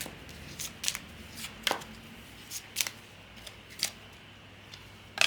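Tarot cards being drawn and shuffled by hand, a series of sharp papery flicks and snaps at irregular intervals, close and fairly quiet, with no talking.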